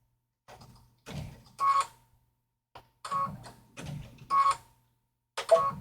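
A sewing machine stitches a satin stitch in short bursts of a few stitches each, with brief pauses between runs as the needle stops up; close, clicking mechanical whirring at moderate volume.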